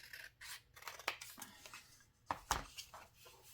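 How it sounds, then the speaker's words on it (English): Scissors snip through paper while a fall-themed craft folio is being cut out: quiet, close, irregular clicks and crisp slicing strokes in a few separate bursts in a calm room. "Let's cut this one out."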